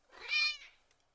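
A cat meows at a window, one drawn-out, rising and falling call that peaks midway and fades, fairly close and alone without talk.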